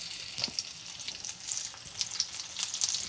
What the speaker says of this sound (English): I'm gonna fry them in butter and olive oil, okay?